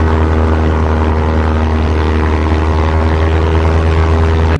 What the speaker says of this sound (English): An old plane sound.